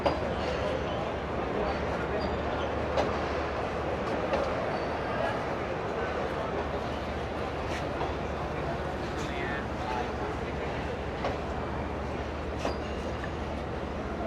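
A passenger train rumbles steadily with a broad, continuous roar, faint clacks and hisses on top, and voices murmuring in the background throughout.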